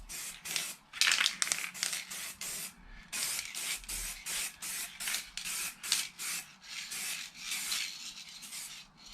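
Aerosol spray paint can hissing in repeated short bursts as motorcycle wheels are painted, close and fairly loud with brief pauses between sprays.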